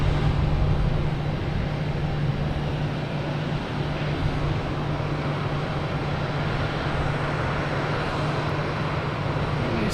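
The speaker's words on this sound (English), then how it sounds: "Mainly because the Alaskan Airlines was going to fire up, so we wouldn't even hear the JetBlue engine" Alaska Airlines jet engines spooling up at Boston Logan Airport, a loud, steady, broadband roar with a constant low hum running underneath throughout, with no talking.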